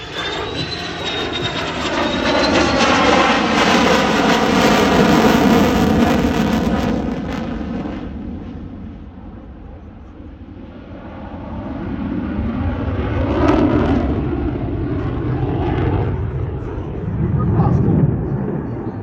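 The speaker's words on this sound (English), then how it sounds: "From your right, the F-16 and the Knife Edge Pass." At the Thunder Over Michigan air show, an F-16 fighter jet flies a knife edge pass from the right, its loud engine roar building, fading, then surging again as it sweeps past, with broad rumbling noise.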